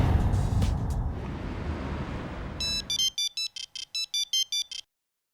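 A telephone rings in bright repeated electronic bursts, about ten evenly spaced pulses, clear and close, coming in as a noisy indoor background fades away to silence; no one speaks.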